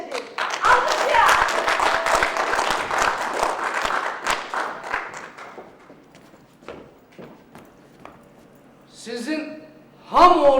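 A comedy-show audience applauds: a dense burst of clapping fades over several seconds into scattered claps, then voices rise near the end.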